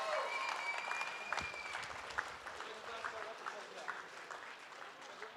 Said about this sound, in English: big round of applause then for all the generous people